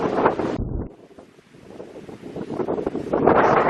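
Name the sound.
wind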